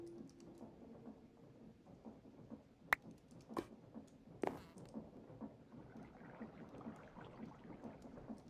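Rain and thunder in Minecraft: a soft, steady patter of rain runs throughout, with a few sharp cracks and rumbles of thunder in the middle. No voices are heard.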